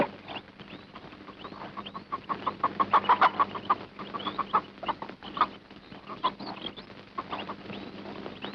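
Chickens cluck repeatedly in a village yard, in quick irregular bursts that grow busier in the middle and then thin out, with no talk.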